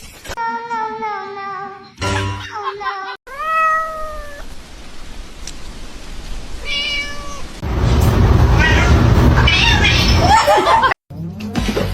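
A kitten gives several clear, high meows, separated by short gaps, with louder bursts of laughter and noise partway through.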